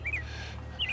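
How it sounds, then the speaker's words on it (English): Robins in a yard, two quick faint chirps at the start and end over a low steady hum. "if you can hear birds in the background all the time in the yard"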